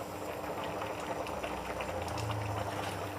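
Molo soup bubbling under a lid in a covered pot, a soft steady simmer with gentle bubbling and a low hum rising slightly near the end, fairly quiet and without speech.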